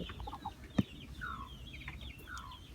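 Laying hens kept in a coop give soft, scattered clucks and drawn-out calls, fairly faint, with one brief knock partway through.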